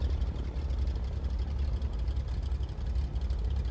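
Milviz C310R twin propeller engine idling in Microsoft Flight Simulator, a steady deep bass drone with a low rumbling throb that holds an even level throughout, with no voices over it.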